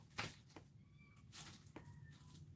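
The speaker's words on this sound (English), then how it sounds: "I hear the cat too." A cat meows twice, faintly, against a background of soft noise and a few sharp taps, with no one talking.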